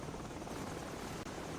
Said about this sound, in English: Helicopter troops closing in fast.